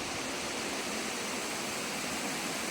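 Steady broadband roar of a waterfall cascading near a lagoon, a continuous close rush of falling water with no voices over it.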